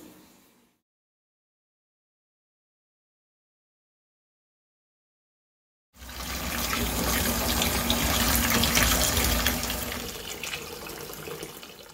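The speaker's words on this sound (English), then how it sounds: "I prefer to wash this by hand" Dishes washed by hand in a kitchen sink: after a brief sound and a long silence, tap water suddenly gushes and runs steadily, loud and close, with faint clinks under the flow.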